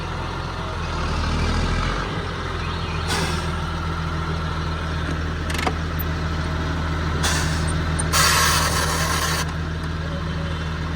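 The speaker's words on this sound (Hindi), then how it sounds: "आज ग्रेटर जो है हम ही चलाएंगे पूरा दिन" An old motor grader runs at a work site, its engine a steady low rumble throughout, broken by several short bursts of hissing, airy noise.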